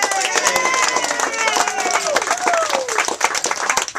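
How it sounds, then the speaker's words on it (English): A crowd applauds in dense, steady clapping with some cheering voices mixed in, loud and sustained throughout. "one big more round of applause for our leadership team for 2014."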